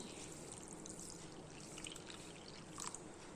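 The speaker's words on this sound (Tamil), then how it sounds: "ஒரு ஒன்றரை டம்ளர் தண்ணி ஊற்றிருக்கேன்" Water pours steadily into a metal pressure cooker, a soft continuous trickle and splash close by, with no talking.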